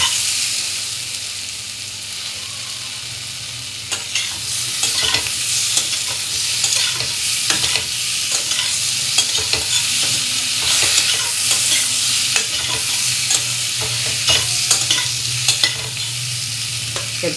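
Spice paste (masala) for a Bengali fish curry is being stir-fried in a pan, giving a steady bed of sizzle with frequent sharp scraping and clinking stirring strokes. No one speaks.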